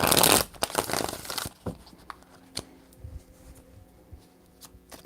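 Tarot cards shuffled by hand during a reading, a dense burst of riffling and flapping card sounds for the first second and a half, then scattered soft taps and slides of the deck, close and quiet.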